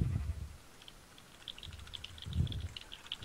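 Sheep bleating in the Minecraft video game: a few short, fairly faint bleats near the start and again later, with light tapping and clicking running underneath.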